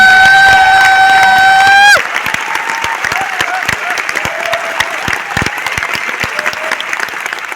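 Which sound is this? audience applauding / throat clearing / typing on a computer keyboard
audience applauding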